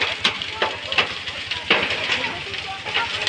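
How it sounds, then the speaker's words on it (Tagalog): A large fire burns at the Main Academic Building, a loud roaring crackle with repeated sharp pops and bursts, while people talk nearby. "Grabe yung sunog, ang laki."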